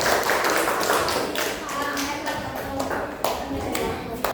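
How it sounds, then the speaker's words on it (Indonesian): A classroom of students claps for a group that has just presented during an Indonesian teaching-practice lesson: a scattered run of close hand claps lasting several seconds, with voices murmuring underneath. "Tepuk tangan untuk kelompok 3"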